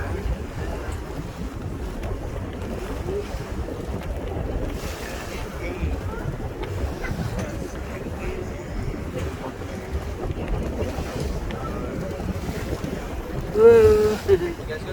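A sightseeing boat pushes sideways through ocean waves, with steady engine and water rush under constant wind buffeting on the microphone, and a brief bump of louder noise near the end.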